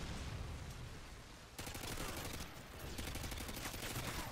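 Rapid automatic gunfire in the video game Call of Duty Modern Warfare 2, dense continuous bursts that start abruptly and keep up with brief gaps, loud and close with no talk.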